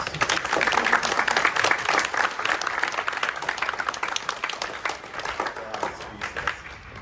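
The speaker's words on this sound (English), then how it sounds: "And sure, we can applaud." Audience applause after a baroque choral performance of Schütz at a university music symposium, a sustained, fairly distant clapping crowd that slowly thins toward the end.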